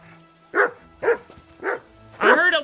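Four distinct dog barks from a hound in the video game Kingdom Come: Deliverance 2, evenly spaced about half a second apart, loud and close, the final bark longer and fuller.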